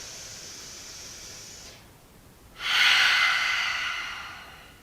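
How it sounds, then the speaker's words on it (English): A slow cleansing breath during a vinyasa yoga session: a soft, airy inhale followed by a brief pause, then a louder, fuller breathy exhale that fades gradually, heard close and alone. "Take a cleansing breath here."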